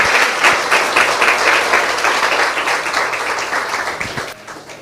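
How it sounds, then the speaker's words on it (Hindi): A congregation at a Hindi-language Christian gathering claps loudly for Jesus, a dense burst of hand clapping with rhythmic pulses that swells and then tapers off near the end. "आइए यीशु के लिए एक जोरदार ताली बजाएं।"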